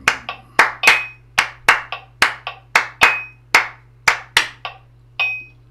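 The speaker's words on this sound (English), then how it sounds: "Whilst we were clapping there, I was trying to work out the rhythmic pattern structure" Close, dry handclaps in a steady rhythmic pattern during a music warm-up, about sixteen sharp claps in uneven groupings with no talking.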